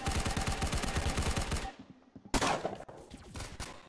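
Rapid automatic gunfire in the video game Arsenal, dense bursts for over a second, then a short gap before more loud shots and scattered firing, with game sounds mixed in.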